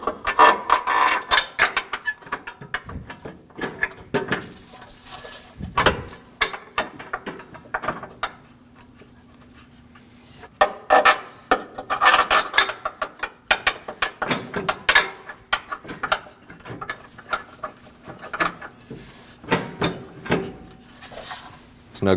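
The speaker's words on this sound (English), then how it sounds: "Now we can install our side bolts." Bolts are fitted and snugged onto the front bumper impact absorber of a 2016-2022 Honda Pilot, with close metallic ratcheting and clunks in bursts separated by quieter pauses, plus occasional handling noise.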